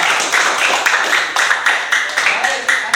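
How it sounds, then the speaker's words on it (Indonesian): A school class clapping together in a classroom, a loud, close burst of rhythmic group hand claps in steady beats, with voices mixed in. "tepuk tangan dulu buat kelas kita"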